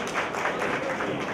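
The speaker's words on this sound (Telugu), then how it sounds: "చప్పట్లు పెట్టి కూర్చుందాం" Audience clapping at a Christmas celebration in Kadiyam, a dense, steady patter of many hands filling the room at moderate volume throughout.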